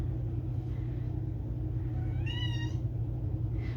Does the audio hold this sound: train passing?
no